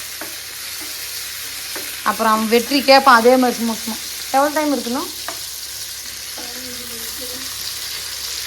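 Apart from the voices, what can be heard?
sautéing ingredients in a pan for curry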